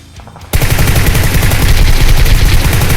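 Loud, rapid bursts of automatic gunfire in PUBG Lite erupt suddenly after a quiet moment and keep rattling nonstop, harsh and close.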